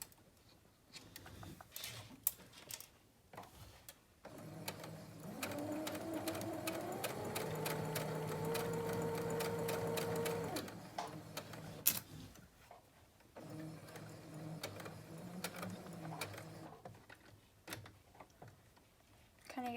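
Sewing machine stitching fabric in a home sewing class, a steady mechanical whir running for several seconds with brief bursts and quiet pauses around it, close and moderately loud.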